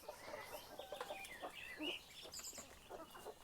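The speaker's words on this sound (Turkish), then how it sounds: "Tavuklar geldi." Chickens cluck softly near a newly built coop for hatched chicks, scattered low calls and chirps at a moderate distance, faint against an outdoor background with no one talking.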